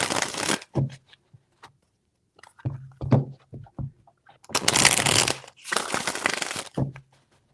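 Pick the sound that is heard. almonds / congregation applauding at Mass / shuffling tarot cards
shuffling tarot cards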